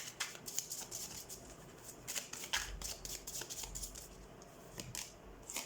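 Tarot cards being shuffled by hand during a reading, giving soft, repeated riffling bursts of papery flicks in quiet surroundings, with no talking.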